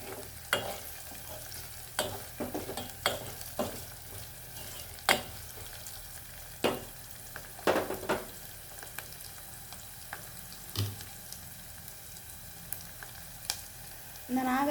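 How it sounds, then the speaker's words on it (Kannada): Curry leaves sizzle and crackle in hot oil, a steady fry broken by repeated sharp scraping knocks of a spoon stirring the pan, close and moderately loud with no talking. "ಇವಾಗ ಅದಕ್ಕೆ ಸ್ವಲ್ಪ ಕರಿಬೇವು ಹಾಕ್ತೇನೆ."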